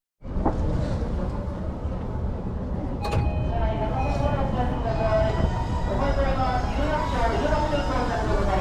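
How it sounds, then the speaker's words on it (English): A train pulls into a Tokyo station with a steady rumble of wheels and motors, close and continuous, topped by a brief high chime or signal tone partway through. "Oh, train has arrived."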